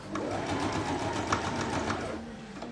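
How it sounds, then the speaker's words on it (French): Sewing machine stitching the small fabric handles for a tart carrier bag: a fast, continuous mechanical whirring hum, close and steady, easing off near the end. "on coud un côté, puis le grand côté, et on laisse l'autre extrémité ouverte"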